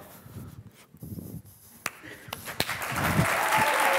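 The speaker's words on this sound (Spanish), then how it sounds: "vosaltres espontàniament comenceu a aplaudir i a cridar com bojos" Applause swells from scattered claps into a loud, steady burst of clapping and cheering that keeps building to the end.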